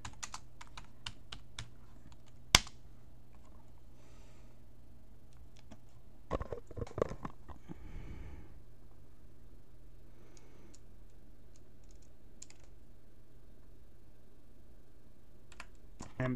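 Someone types on a new computer keyboard in close, quiet bursts of key clicks. The keystrokes come in irregular flurries separated by pauses, with one sharper, louder key strike.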